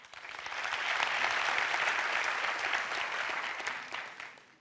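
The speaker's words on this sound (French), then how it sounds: "Par applaudissement." A comedy show audience applauds, the clapping swelling in, holding as a dense, even roar of many hands, then tapering off near the end, heard somewhat distant with no speech over it.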